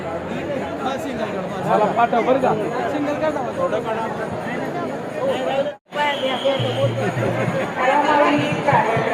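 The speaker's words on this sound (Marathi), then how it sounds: "आज पंढरपूरला आलोत आपण दर्शनासाठी आणि तुफान अशी गर्दी आहे" Dense chatter of a large crowd of pilgrims packed into the Pandharpur temple for darshan, a continuous loud babble of many overlapping voices with one brief dropout near the middle.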